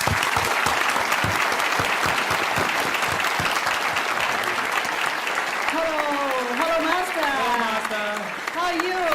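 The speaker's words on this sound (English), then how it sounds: "Let's give a warm round of applause to welcome our most honorable Supreme Master" Audience applause welcoming a speaker, a loud, sustained burst of clapping throughout, with a voice talking over it toward the end.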